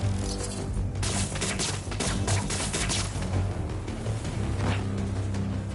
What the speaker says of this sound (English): those fireworks are lit?